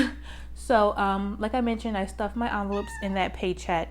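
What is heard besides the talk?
cat meowing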